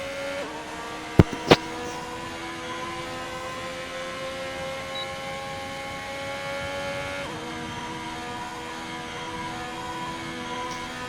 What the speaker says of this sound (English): a lot of cars are going out again for another run